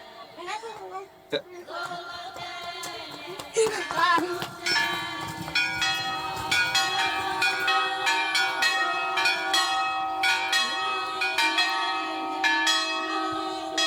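Church bells ring repeatedly from a bell tower at Easter, with overlapping metallic strikes and a lingering hum, while voices murmur in the background.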